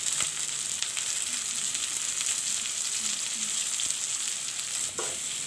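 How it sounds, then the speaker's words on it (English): Fried capsicum and potatoes stirred together in a hot pan with chicken for capsicum cutlets, giving a continuous close sizzle with occasional light scraping and clinks from the spoon. "Now I'll put in the fried capsicum and the potatoes. And mix it well."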